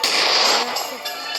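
A single gunshot rings out in the video game Granny Chapter 1, a sharp loud blast that trails off in a brief echoing decay.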